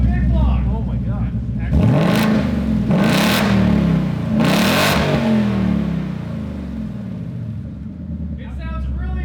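A 2020 Mustang GT V8 with a Roush active exhaust revs three times in quick succession, each loud, deep roar swelling and dropping back to a rumbling idle, close by.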